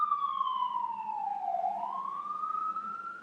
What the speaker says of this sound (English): Sirens just like that, the ghetto.